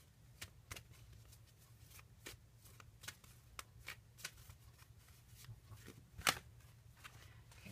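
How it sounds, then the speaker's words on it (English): Tarot cards are shuffled by hand in a quiet room, giving a steady run of soft riffling slaps and flutters at close range, with one sharper snap near the end and no talking. "Let me pull a romance card for you really quickly."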